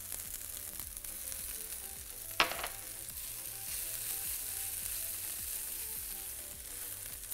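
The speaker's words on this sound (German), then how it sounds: "1 Minute brate ich die jetzt noch mit." Seitan frying in margarine in a pan, a steady close sizzle running throughout with one sharp spatter or stirring clatter partway through, no voices.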